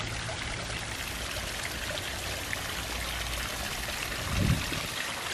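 Water from a backyard pond waterfall pours and splashes in a steady, constant rush close by, with a brief low bump near the end and no talk.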